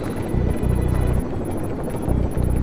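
A helicopter in the shooter game Rainbow Six Vegas chops loudly and steadily up close, its pulsing rotor thump surging in repeated bursts over a constant engine whine.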